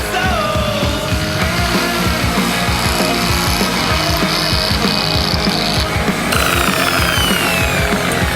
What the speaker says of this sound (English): We'll make a hole for the centre of the aerial.